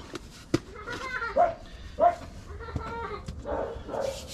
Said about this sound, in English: the dog's barking at her